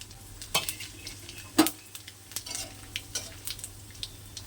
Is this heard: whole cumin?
yes